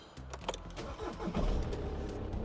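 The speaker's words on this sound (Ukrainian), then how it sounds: "Запускаємо автомобільчик." A car engine cranks and catches, settling into a steady low idle over about two seconds, close and moderately quiet with no talk.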